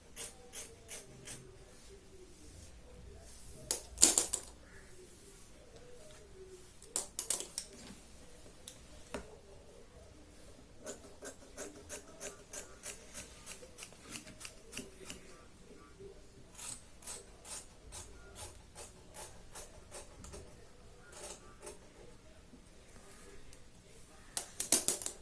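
Scissors snipping through fabric while cutting the neckline of a sherwani for a young boy, a fast run of crisp, rhythmic close clicks with a few louder snips, alone without talk.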